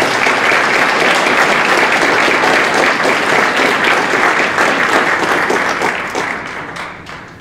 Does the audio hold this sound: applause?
yes